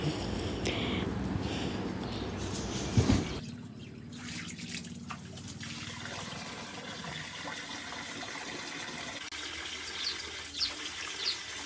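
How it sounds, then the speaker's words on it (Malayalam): Water from a motor pump filling a lotus pond, heard as a steady rushing pour with dripping and splashing, with a sudden shift in the flow partway through. "അങ്ങനെ മോട്ടർ അടിക്കാൻ പോവുകയാണ് കേട്ടോ"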